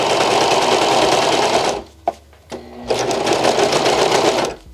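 A sewing machine stitches a satin bonnet in a rapid, steady whirring run, pauses briefly with a couple of clicks, then resumes at full speed before stopping.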